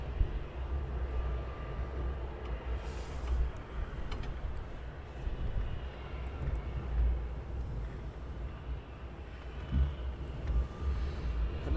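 A Blue Air airliner taxiing at Luton Airport on an early morning, its engines a steady low rumble with a broad roar held evenly throughout, fairly distant and unbroken.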